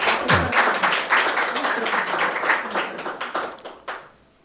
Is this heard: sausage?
no